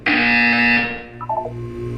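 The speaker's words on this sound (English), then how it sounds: "You will hear a buzzer." A harsh electronic buzzer sounds in the Portal 2 video game, a loud, sustained tone lasting just under a second, followed by a short burst of higher chiming notes over a low ambient drone.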